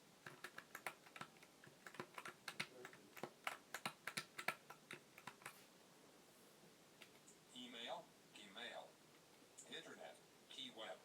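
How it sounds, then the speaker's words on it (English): Arrow keys on a USB keyboard connected to a Braille Note Touch are pressed in a quick series of sharp, close clicks, then a voice speaks. "Now if I just move to my arrow keys"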